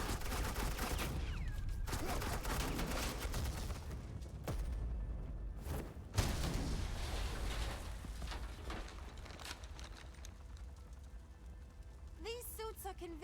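Gunfire in the Batman The Enemy Within video game comes as dense bursts and sharp cracks under shouting voices, with a heavier impact midway before the fire thins out.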